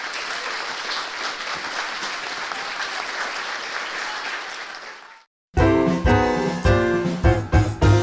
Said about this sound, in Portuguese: eu queria uma salva de palmas